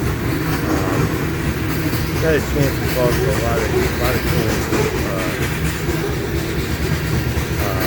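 Iowa Interstate Railroad freight train hauling loaded corn rolls steadily into the 29th Street yard, a continuous low rumble with faint wheel clatter and squeal, while someone talks over it throughout.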